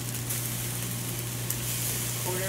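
Tamari sauce hits a pan of frying rice and sizzles in a steady, dense hiss that stays loud and continuous throughout, with no talk over it.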